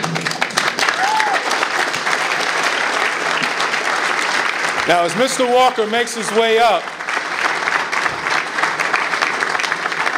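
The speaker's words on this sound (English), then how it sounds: "I give you another chance to give him a round of applause" Audience at an award ceremony applauding steadily throughout, a dense sustained wash of clapping while someone speaks over it through a microphone.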